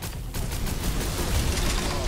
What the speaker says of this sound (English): Oh, that's just a machine gun.